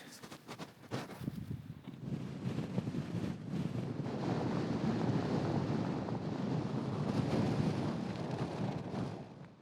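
Strong wind gusts about 40 miles an hour buffet the microphone on an exposed hilltop, building from broken blasts into a sustained, loud rushing roar.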